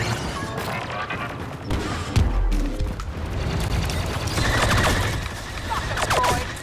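Rapid gunfire and blaster shots crackle through a chaotic Star Wars Battlefront 2 firefight against Wookiees, with loud bursts and impacts clustering toward the end over a dense background of battle noise.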